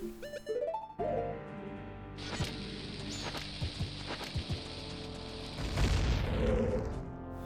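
Bomb blasts in The Legend of Zelda: Majora's Mask at the Ancient Castle of Ikana: a sustained roar of game explosions with sharp hits, ending in a heavier, louder boom near the end.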